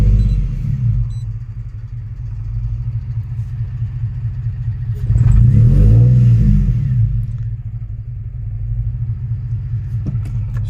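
The engine of a 2003 Infiniti G35 with a misfire and lack of power rumbles steadily under load, rises into a louder rev midway, then settles back to a low drone, heard up close.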